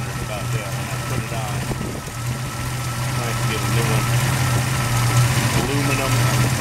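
A dually pickup truck's engine idles steadily nearby with a low rumbling hum that grows slightly louder, while someone talks over it.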